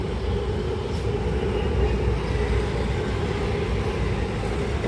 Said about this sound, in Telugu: ఇదిగో ట్రైన్.